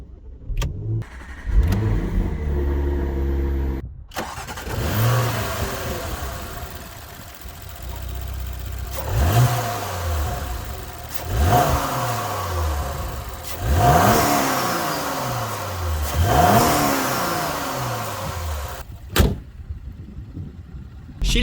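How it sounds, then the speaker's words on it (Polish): A Porsche Macan S with a 2.9-litre twin-turbo V6 petrol engine cranks and fires, settles into an idle, then gets blipped in several sharp revs that rise and fall, heard close with no talking. "Silnik jak to silnik, bez obciążenia brzmi zwyczajnie, ale i tak już lekko przygazowując, słychać, że nie jest to mała jednostka."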